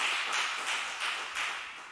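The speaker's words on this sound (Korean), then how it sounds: "다시 한번 박수할까요?" A church congregation applauding during a Sunday morning worship service, heard as a faint, distant wash of steady clapping that swells and fades slightly in waves.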